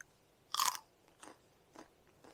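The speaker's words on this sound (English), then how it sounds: "Listen to the crunch." A loud, close crunch of biting into a freshly picked ear of sweetcorn in an organic vegetable garden, followed by three softer chewing crunches, with no talking.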